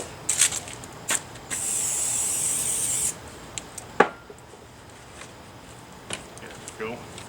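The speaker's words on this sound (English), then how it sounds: "Spray this with a little oil." A steady, bright hiss of an aerosol cooking oil spray lasting about two seconds, close by, followed by a few soft clicks and handling noises.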